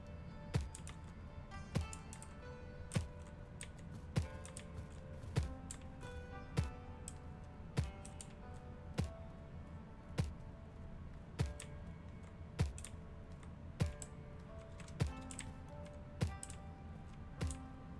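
Keys clatter on a computer keyboard in a quiet room, soft irregular taps with sharper periodic strokes, faint and steady throughout, no voices.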